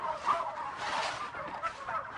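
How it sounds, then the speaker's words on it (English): Many turkeys on one of a chain of antibiotic-free Pennsylvania poultry farms, a dense continuous chorus of gobbling and clucking from a large flock close by, with no voices over it. "Wow, a lot of turkeys."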